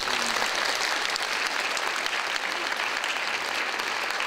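A church congregation applauds a visiting choir during a 40th-anniversary thanksgiving service, steady dense clapping filling the room without pause throughout, fairly loud and close, with no voices standing out.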